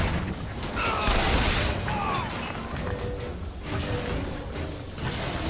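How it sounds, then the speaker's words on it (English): In the video game BioShock Infinite, a fusillade of rapid gunshots rattles alongside crashes and thuds, the shots overlapping steadily through a chaotic firefight. "Who the hell is shooting?"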